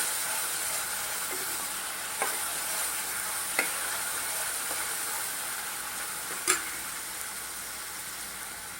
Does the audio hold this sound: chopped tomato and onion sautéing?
yes